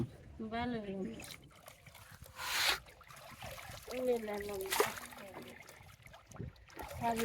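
Freshly picked water lily flowers are rinsed in a village pond, with a few soft splashes and dribbles of water under intermittent close voices talking.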